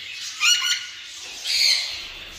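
Canaries in a home aviary give two short, bright, scratchy calls about a second apart, clear and fairly close over a quiet background.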